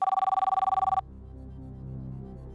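A telephone rings with rapid pulsing electronic trills for about a second during a quiz show, then cuts off into a low room hum.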